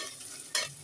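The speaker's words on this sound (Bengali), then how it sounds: "এটাকে আমি ভালো করে নেড়ে চেড়ে বাদামি কালার করে নেব।" Onion with red chillies frying in a pan gives a soft steady sizzle, broken by two short scraping bursts of stirring, close and fairly quiet.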